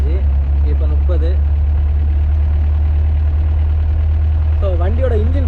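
A 1984 Hindustan Ambassador diesel taxi cruising in fourth gear at about 30 keeps up a steady, smooth low engine drone throughout, with a voice talking over it at the start and end.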